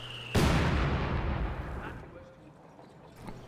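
Mortar fire in Company of Heroes 2, a single sharp, heavy impact blast that rolls off over a couple of seconds, with faint game sounds after it.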